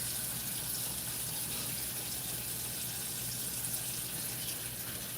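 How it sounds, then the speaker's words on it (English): Tap water runs steadily into a kitchen sink while vegetables are rinsed, a continuous even hiss of flowing water, close and fairly quiet, with no voices. "I just come back and I rinse my vegetables off good too"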